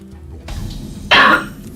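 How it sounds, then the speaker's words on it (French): A man gives a single short, harsh cough up close, a brief throaty burst after a moment of low background noise. "m'entendre tousser dans mes vidéos"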